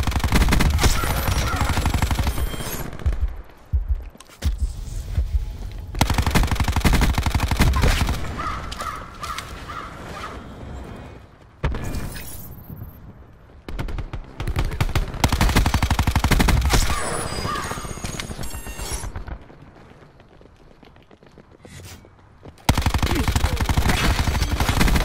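Gunfire in Black Ops 4 multiplayer, with rapid automatic bursts of loud, close shooting broken by short pauses and one longer quiet stretch before the firing resumes.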